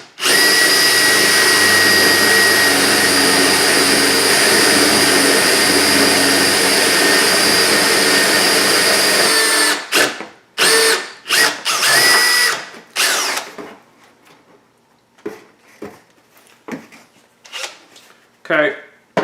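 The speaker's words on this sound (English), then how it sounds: "I need to tighten the chuck a little bit. Kind of happens on this drill sometimes." A power drill bores out and enlarges a hole in wood, a loud, close, continuous whine for about ten seconds before it stops, followed by scattered handling clatter and bumps.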